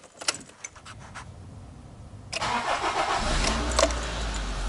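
A Honda car engine with a CVT gearbox starts: keys jangle and click first, then the starter catches and the engine settles into a steady, close idle rumble.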